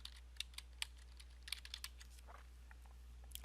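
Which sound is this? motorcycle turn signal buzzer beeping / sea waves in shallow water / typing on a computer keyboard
typing on a computer keyboard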